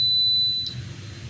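Generator set control panel buzzer alarm, a steady high-pitched electronic tone that sounds loud and continuous, then cuts off abruptly partway through, leaving low background hum.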